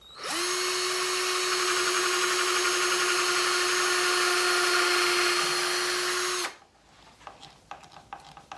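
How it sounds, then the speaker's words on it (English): A power drill drilling holes in wood runs at a steady high whine for about six seconds, then stops, followed by light clicks and handling noises. "So I'm going to drill 3 holes and put in 3 screws."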